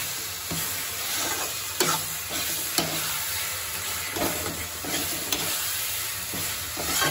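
Mutton masala frying in a pan for a traditional mutton gravy, giving a loud, continuous close sizzle, with scattered scrapes and taps from stirring rising above it and no voices.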